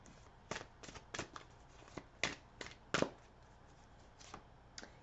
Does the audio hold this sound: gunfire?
no